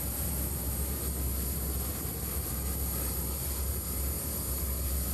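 The QSRA research aircraft taking off at the 1987 Moffett airshow, a steady loud engine roar with broadband rushing noise and a high whine, continuous and unbroken throughout.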